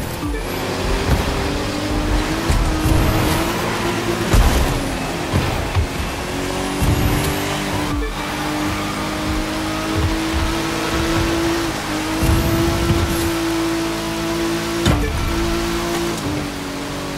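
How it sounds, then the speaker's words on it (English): A sleeper car in The Crew 2 racing hard, its engine howling loud and close with rising pitch sweeps through gear changes, sharp thumps and tyre noise breaking in now and then. "That car's really moving"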